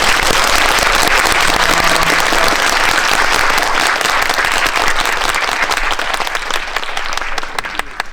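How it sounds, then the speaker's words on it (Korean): A large audience at a Korean film screening Q&A applauds loudly and steadily for several seconds, the clapping thinning slightly toward the end. "오늘 또 소개해 주신 세 분에게 큰 박수 부탁드립니다."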